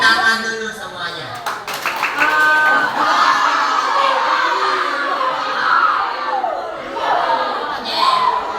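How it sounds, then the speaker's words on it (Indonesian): Classroom of children clapping hands together with cheers and shouting, loud and close, a teacher's voice talking over the noise at first. "Oke, tepuk tangan dulu semuanya."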